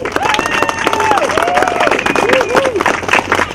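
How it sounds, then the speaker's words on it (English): An audience applauds a children's choir at a holiday open house, a continuous crowd clapping with some cheering held at steady loudness, with faint tonal sounds running through it. "And we have another round of applause for that great choir."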